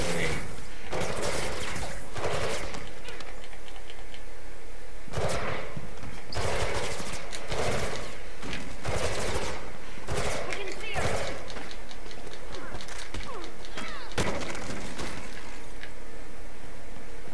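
Bursts of rapid automatic gunfire aimed at the player in the video game Mirror's Edge Catalyst, loud volleys repeating at irregular intervals with short gaps between.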